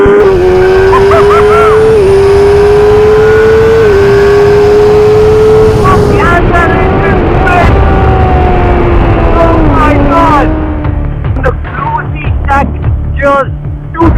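A 2016 Kawasaki Ninja ZX10R motorcycle accelerates hard at full power, its engine note loud and close, climbing through the gears with a steady whine and a brief dip at each shift.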